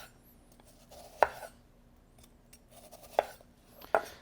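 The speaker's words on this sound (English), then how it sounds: "just let the weight of the knife as I'm pulling back through, cut through the onion" A knife slices through an onion on a cutting board in a kitchen cooking demo, giving three distinct close chopping knocks spaced unevenly, alone without talk.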